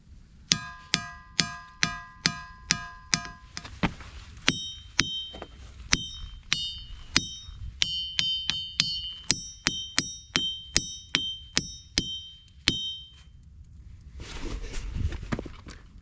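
A series of sharp metallic rings from a struck rock at Ringing Rocks County Park, like a cowbell, repeating at a steady rhythm with varying pitches, each strike decaying quickly.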